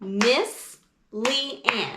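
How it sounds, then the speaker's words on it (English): Hand claps marking the syllables of a spoken name in a children's rhythm lesson: three sharp claps fall in time with a voice as she speaks, one for the first word and two for the second. "If I clap the syllables in my name"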